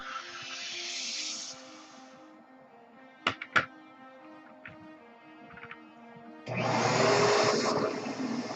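A vacuum cleaner whines at the start, falls quiet for a few seconds of faint clicks and taps, then roars back on loudly.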